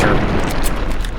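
A mini nuke launcher shell detonating in a Fallout game, producing a loud, close, roaring blast that stays dense and rumbling for just over a second with no voices.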